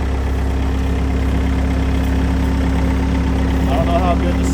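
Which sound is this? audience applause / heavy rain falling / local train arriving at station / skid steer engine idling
skid steer engine idling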